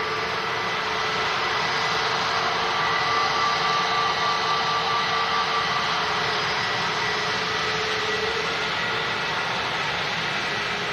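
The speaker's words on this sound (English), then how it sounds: "brake fans on the A320 Neo there. A kind of high whine sound." Steady high whine from the brake cooling fans of an Airbus A320neo, joined by a low engine rumble, constant and fairly loud across the whole stretch with no voices.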